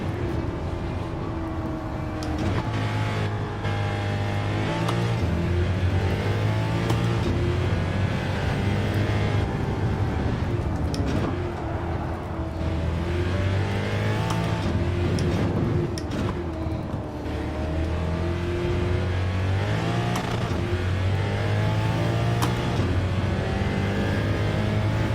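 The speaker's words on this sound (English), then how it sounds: "I'm running this car really super detuned right now too." Race car engine in Gran Turismo 7 on PS4 Pro, running heavily detuned through a complex of turns, droning steadily with rising and falling revs across shifts, loud and continuous throughout.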